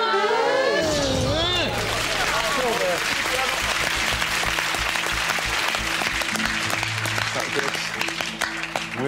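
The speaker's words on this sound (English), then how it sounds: "We're not quite sure why they applaud him" A game-show studio audience bursts into applause after a brief electronic musical sting, the clapping swelling and carrying on steadily to the end beneath a low hum.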